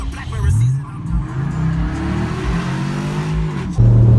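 Loud, close engine revs and a car accelerating hard at a night car meet with two-steps and burnouts, the note rising then cutting sharply before a deep idle rumble returns.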